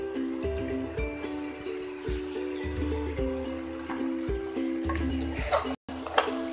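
A spoon stirs spices into mutton trotters in a pot, scraping in repeated rhythmic strokes over a low sizzle, with a brief dropout near the end.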